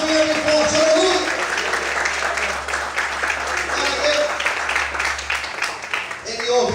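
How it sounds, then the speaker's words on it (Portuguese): Church congregation applauding to praise God during a morning worship service, a steady wash of clapping that holds loud and even for several seconds, with voices mixed into the crowd noise. "Quantos podem aplaudir e exaltar a Deus nessa manhã de forte?"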